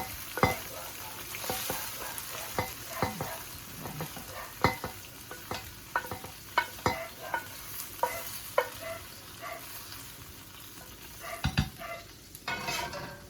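Browned beef tipped from a frying pan into a stew pot and stirred, with the grease held back in the pan: a steady run of scraping spoon strokes and knocks over a soft sizzle, close and fairly loud.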